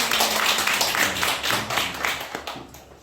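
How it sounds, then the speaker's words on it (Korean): Audience at a lecture clapping in response, a short burst of dense applause that swells briefly and tapers off within a few seconds. "제 얘기에 동의하시는 분 박수 한번 시작해 주세요"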